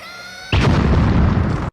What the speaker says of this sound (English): it also features the character of Tim the Enchanter, who harnesses explosion magic.